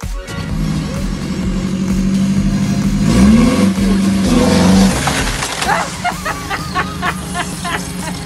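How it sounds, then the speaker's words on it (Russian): A minibus engine revs hard and strains while ramming a neighboring car, a loud, close, rising drone with a pitch sweep and a few clanks near the end, a voice narrating over it. "водитель продолжает таранить соседний автомобиль"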